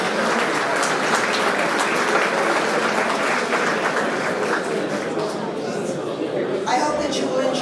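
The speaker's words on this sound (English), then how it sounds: "So please give yourselves a round of applause." A luncheon crowd at a convention gives a full round of applause, sustained and fairly loud, with some scattered crowd chatter mixed into the clapping and a brief lull near the end.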